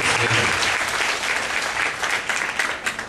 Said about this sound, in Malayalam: റിജിക്ക് ഒരു വലിയ കയ്യടി കൊടുക്കേണ്ടത് അത്യാവശ്യമാണ്